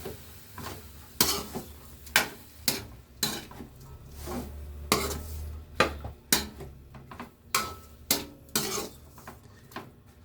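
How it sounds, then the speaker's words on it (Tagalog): A spoon scrapes and clanks rhythmically against a pot while mung beans and pork are stirred, about a dozen sharp metallic strokes over a low, steady background hum, with no voices. "so put the munggo. Okay, and then mix."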